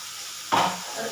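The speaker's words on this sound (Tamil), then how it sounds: "வெங்காயம் கருவேப்பிலை எல்லாமே போட்டு இஞ்சி போட்டு பேஸ்டே ஊற்றிட்டு நல்லா வதக்கிட்டேன்." Onions, curry leaves and ginger being stirred in a hot pan, with a brief scrape and a burst of sizzling over a steady background hiss.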